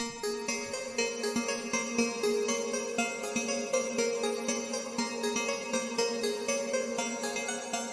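A bright synth melody from a free synth in FL Studio plucks a repeating pattern, each note trailing into echoing delay-send repeats that blur together, moderately loud and steady throughout.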